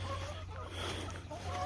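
Chickens cluck softly in a covered, snow-covered run, faint scattered calls over a steady low hum.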